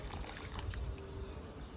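Water is poured generously onto the soil around chili plants, making a quiet, steady trickle and splash. It carries on with no pauses under a broad wash of outdoor noise.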